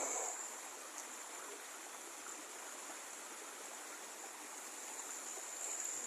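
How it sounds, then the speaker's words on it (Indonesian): A river in a rural area near rice paddies, running murky during the planting season, rushes steadily with a constant broad hiss of flowing water, fairly close and unbroken, with no voices. "Ini sungai di wilayah kami"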